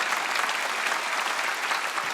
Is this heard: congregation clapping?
yes